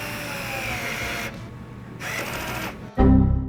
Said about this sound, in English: I've got the screwdriver here and a screw.